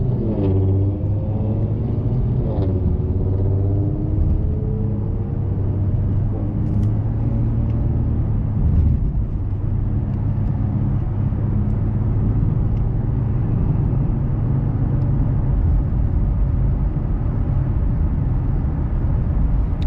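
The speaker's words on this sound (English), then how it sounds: "Driving this Mustang is a joy." A 2007 Ford Mustang V6 driving at around 50 mph, with a steady engine drone and low road rumble heard from inside the cabin, plus a couple of brief rises in engine pitch early on.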